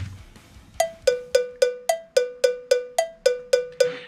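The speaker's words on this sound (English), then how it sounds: "This is the same click track I hear for live shows, or I hear, you know, during recording sessions" A Latin percussion cowbell click track strikes a steady metronomic pulse, twelve bright, sharp hits at an even tempo, each with a quick ringing decay, loud and close with no other sound.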